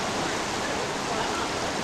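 Creek water flows beneath the old wooden piers along Creek Street in an Alaskan town, a steady broadband rushing wash with no breaks, fairly loud and close.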